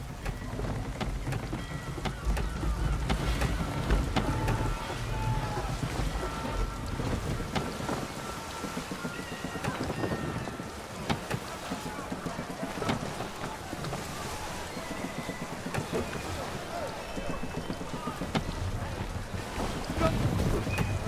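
A sailing ship at sea in the video game Assassin's Creed III, with wind rushing over the sails and steady water wash against the hull, a dense continuous roar with faint creaks and distant game sounds, no talk.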